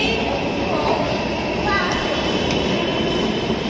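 Steady rumble of a Delhi Metro train in motion between Pratap Nagar and Ballabhgarh, a continuous loud hum and rattle throughout, with some faint voices mixed in.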